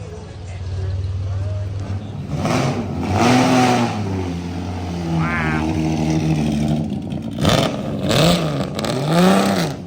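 Loud 1957 Jaguar D-type engine revving up and down nearby, its deep roar swelling in bursts while people talk excitedly over it.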